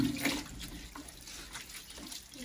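Water running from a tap into a container for birds, a continuous splashing trickle with uneven gurgles, close and fairly quiet, no talk.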